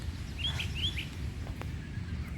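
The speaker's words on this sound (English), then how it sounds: "Seems like mockingbirds and crows are always trying to fight." Mockingbirds and crows squabble outdoors at a distance, giving a few short, sharp chirping calls over a low background rumble. The calls are faint, and no one talks.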